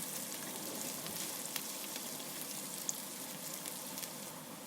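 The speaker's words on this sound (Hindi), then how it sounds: "प्याज को हमने ब्राउन करना है" Onions browning in a pan give a steady, even sizzle and crackle of frying throughout, with faint stirring ticks, moderately quiet and close, with no talk.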